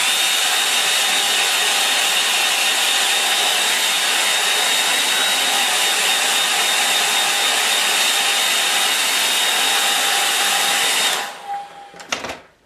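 A hair dryer blows steadily and loudly over a watercolour painting of a rocky stream, a constant whooshing hum that cuts off near the end with a brief clatter as it is switched off.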